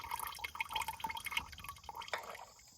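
Oil draining from a John Deere A tractor, a continuous liquid trickle and patter of drips into a catch pan, close and moderately loud, with no voices.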